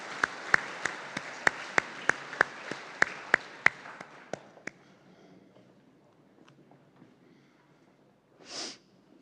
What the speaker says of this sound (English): Just start clapping quickly.